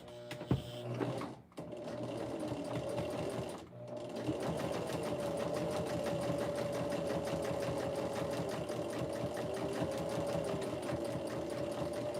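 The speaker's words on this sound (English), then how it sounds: "I'll take it to my machine and I will stitch a 1/4 inch." A sewing machine stitches a quarter-inch seam on a bag, running close and steady with a rapid, even needle rhythm. It is broken by two brief stops early on, then runs unbroken.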